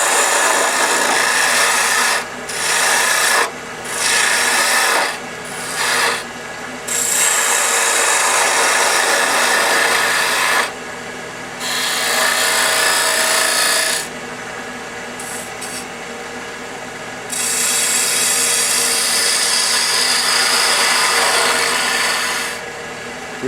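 Wood being turned on a lathe at about 1800 RPM to shape the top of a bottle stopper, a loud continuous rasping scrape of the tool on spinning wood, broken by several short pauses as the cut lifts off.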